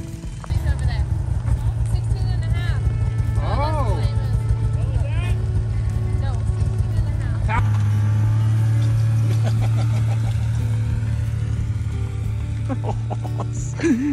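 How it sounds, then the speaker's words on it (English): Snowmobile ridden by a three-year-old in Alaska, a loud continuous engine drone holding steady throughout, with people talking over it. "Three-year-old riding a snow machine."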